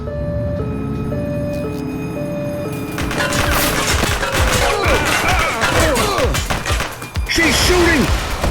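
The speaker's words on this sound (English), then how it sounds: "She's shooting!" Gunfire in the police video game The Precinct, set in Brookhaven during an aggravated burglary call: loud rapid shots and cracks, with a musical chime tone heard first, then dense bursts of firing and impacts.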